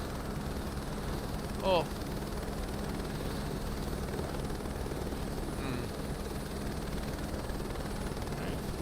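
A helicopter in Microsoft Flight Simulator 2024, flown over the Caribbean, gives a steady, unbroken rotor and engine drone, with a brief exclamation from a voice on top.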